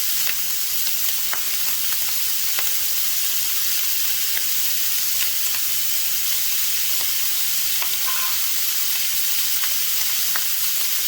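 Onions and garlic sizzling and frying in a hot pan while being cooked for creamy penne pasta with Italian sausage, a steady loud hiss with occasional crackles and pops, close and continuous with no talking.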